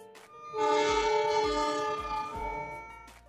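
A train horn blares in one long, loud sustained blast with rich harmonic tones, rumbling rail noise faintly beneath it.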